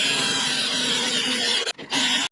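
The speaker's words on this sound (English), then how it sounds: "Okay, so it's all chucked up, the drill. Let's give it a go" A cordless power drill set to drill mode bores into wood, a steady high whine that cuts out briefly near the end, then resumes for a short final burst.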